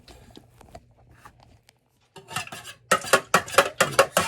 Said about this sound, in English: And then I'm going to stir it.